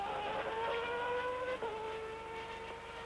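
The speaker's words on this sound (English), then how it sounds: "Has he kept the engine running, or is Aguri Suzuki going to have to go back" A 1993 Formula One car, a Ligier Renault at the Australian Grand Prix qualifying, keeps its engine running after a spin: a steady, high-pitched revving drone holds close and loud for about three seconds with only small dips in pitch.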